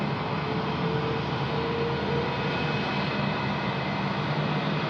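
Jet airliner rolling for takeoff on runway 16 right at Sydney Airport, a steady broadband roar holding at constant loudness throughout, heard from a distance without talk.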